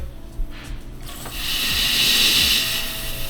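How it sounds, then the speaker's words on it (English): Pressurized air being pushed out of a fill bottle on a brake bleeder while bleeding the brakes on a 6th-generation Ford Bronco, a steady rising hiss after a few mechanical clicks, heard close. "I'm pushing air out of my fill bottle"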